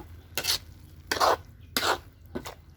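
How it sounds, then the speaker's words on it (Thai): Jaew bong chili paste is stir-fried in a pan, with four distinct scraping, sizzling strokes of the spatula in an uneven rhythm, loud and close, each separated by a quiet pause. "ผัดไปเรื่อยๆค่ะจนกว่าน้ำสีแห้ง"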